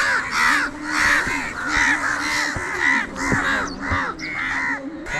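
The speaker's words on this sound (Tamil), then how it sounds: "பாருங்க காகம் இஞ்சால எப்படி குவியுதுன்னு" Crows gather and caw repeatedly, several harsh calls overlapping in an uneven rhythm, loud and close with no talking.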